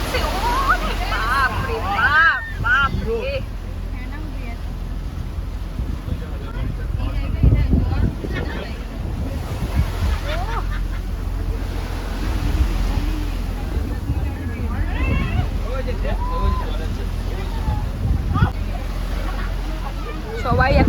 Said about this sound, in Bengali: ঢেউয়ের এত সুন্দর ঢেউ সবাই ভিডিও করছে